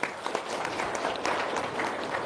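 An audience at a testimonial seminar breaks into quick applause, a dense patter of many hands clapping close by for a couple of seconds.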